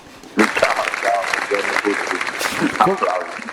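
Studio audience applause for a guest on an Italian talk show, a steady broadband clatter starting abruptly after a brief quiet moment and continuing at moderate loudness, with a voice talking over it throughout.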